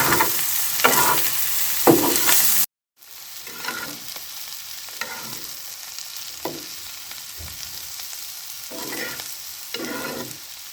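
Vegetables fry in a pan with worn non-stick coating, stirred with a metal spatula in a village kitchen; bursts of scraping and sizzling recur every second or two, with a brief silent gap early on.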